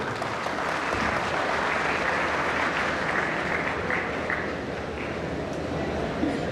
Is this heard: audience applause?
yes